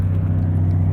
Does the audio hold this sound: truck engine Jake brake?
yes